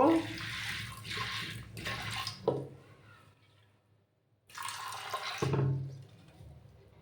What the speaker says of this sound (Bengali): এবার আমি একটা কুকার নিলাম কুকারের মধ্যে ঠেলে ঢেলে দিচ্ছি দেখো কুকারের মধ্যে দিয়ে দিয়েছি আমি এবার পরিমাণ মতো জল দেব